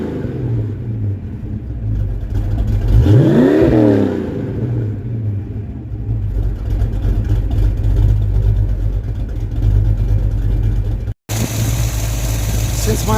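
A Ford Mustang engine with custom black tailpipes rumbles steadily near the microphone, with one rising and falling rev in the middle and a brief dropout before the sound resumes.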